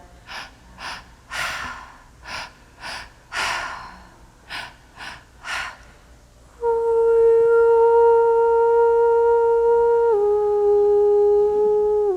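Deep rhythmic breathing during a guided breathwork session, a run of forceful gasping inhales and exhales one after another, then giving way to a steady sustained tone with no voice.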